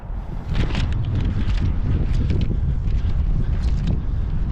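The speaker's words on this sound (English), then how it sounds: "The wind is starting to get kind of cold." Steady outdoor wind buffets the microphone in a continuous rushing roar, loud and close, with no talking throughout.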